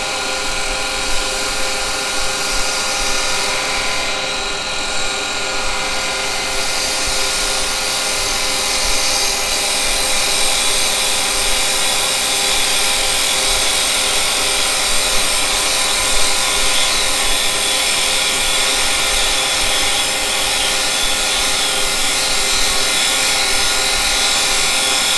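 Carbide tool cutting yew on a woodturning lathe, a steady continuous hiss and whir that holds evenly throughout with no breaks and no voices.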